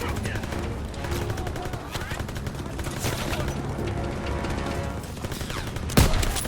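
Gunfire in the video game Call of Duty: WW2, with rapid overlapping automatic bursts crackling steadily throughout and a louder single shot near the end, under a voice.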